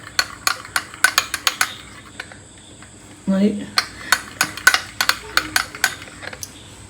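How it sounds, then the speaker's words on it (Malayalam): A spoon clinks against a bowl in a quick, uneven run of sharp taps while a papaya face pack mixture is stirred, with a short duller scrape partway through. "ഇത് നമുക്കിത് നന്നായി ഇളക്കി യോജിപ്പിക്കാം"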